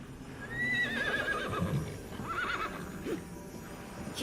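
A horse named Stallion whinnies in the fantasy game Tiny Tina's Wonderlands, a fairly faint, wavering neigh with some hoof clatter underneath, alone without talk.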